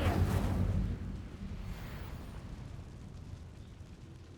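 An Incendio fire spell cast in Hogwarts Legacy erupts in a loud, whooshing fiery burst at the start, then fades into a crackling, rumbling tail.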